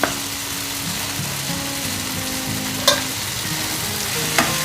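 Turmeric and red chili powder for chole are stirred in a hot, sizzling pan, a steady fry noise with soft scraping and two clear knocks of the spoon against the pan.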